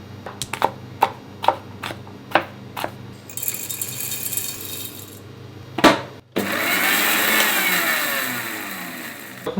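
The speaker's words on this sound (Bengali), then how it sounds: "ব্ল্যাক পেপারটাকে গ্রাইন্ড করা হয়" Black pepper ground in an electric grinder: several sharp clicks and taps, then a loud, steady whirring motor that cuts out and restarts with a bright, sustained grinding roar.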